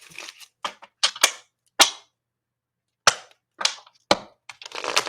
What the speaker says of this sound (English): Let's shuffle twice here